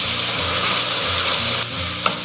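Shredded pork stir-fried with garlic slices and cooking wine in a very hot, oiled wok: a loud, steady sizzle and crackle of frying with a constant scraping stir, close by and with no voices.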